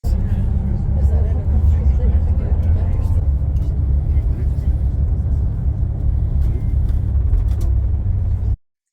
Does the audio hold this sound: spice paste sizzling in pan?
no